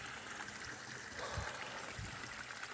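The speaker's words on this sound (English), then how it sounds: "So all the water's going down the plug hole." Water drains down a plug hole in an old disused canal in Wales, a faint, steady trickling and gurgling flow with a couple of soft low splashes, heard at a distance without voices.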